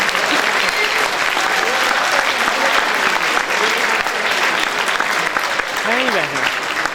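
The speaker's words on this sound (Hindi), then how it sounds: "मैं आप सब लोगों को गुजारिश करूँगा कि उनके लिए ढेर सारी तालियां" Loud, sustained applause from a large crowd honoring martyrs and fighter pilots at a prize distribution ceremony, steady and dense for the whole stretch, with faint voices underneath.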